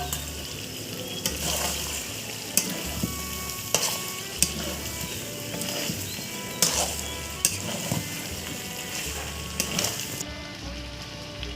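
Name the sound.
frying potatoes added to Bengali chicken curry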